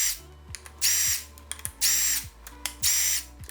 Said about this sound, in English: I'm just gonna go ahead and go through with the impact and get them out all the way